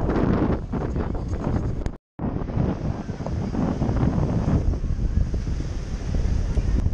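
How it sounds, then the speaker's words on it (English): Big, rough surf pounds a crowded beach with strong wind buffeting the microphone, a loud continuous roar broken by a short dropout, with faint voices mixed in. "Big waves."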